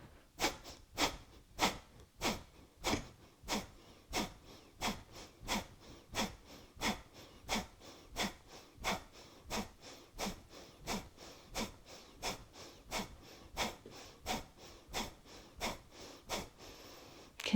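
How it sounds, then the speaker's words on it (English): Breath of fire yoga breathing: rapid, evenly spaced forceful nasal exhalations, about two per second, repeating steadily and close up for the whole stretch with no talking. "and begin breath of fire."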